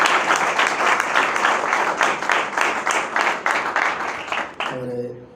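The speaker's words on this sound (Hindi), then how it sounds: "आइए ज़ोरदार तालियां खुदावंद यसुसी की हज़ूरी में बजाते हैं।" A church congregation claps loudly together for several seconds, a dense rhythmic wash of applause that tapers off before a brief musical tone at the end.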